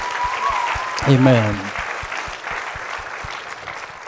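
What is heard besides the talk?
congregation applause for graduating class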